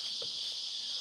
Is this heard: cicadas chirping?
yes